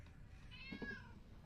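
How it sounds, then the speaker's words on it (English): A cat in the video game Half-Life: Alyx gives a single short, faint meow with a rising then falling pitch, alone against quiet background noise. "Cat down there, look. Pussycat."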